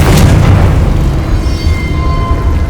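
A Confringo explosion spell in the Hogwarts Legacy video game sets off a loud, booming blast that opens with a sharp burst and then rumbles on heavily to the end.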